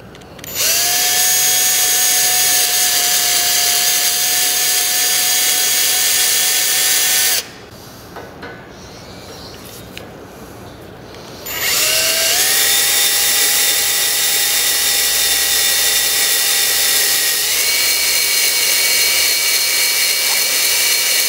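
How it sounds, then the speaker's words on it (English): A loud, high-pitched center drill whines steadily as it bores into an oiled steel bar, pauses for a few seconds, then spins up again and runs continuously at close range. "I'm going to use a tool called a center drill to drill out that center hole."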